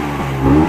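A Vespa scooter engine revs up loud and close, a brief swelling blip of a small motor rising from idle before dropping back.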